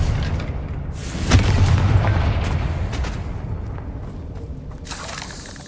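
A Confringo spell explosion in the Hogwarts Legacy video game: a sharp, loud boom that rumbles and then fades gradually over several seconds, with no voices.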